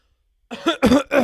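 A few harsh coughs close to the microphone, loud and abrupt, in quick succession.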